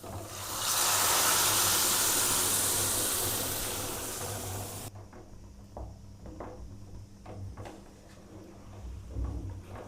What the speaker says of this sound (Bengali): এবার আমরা ডালটাকে ঢেলে দেবো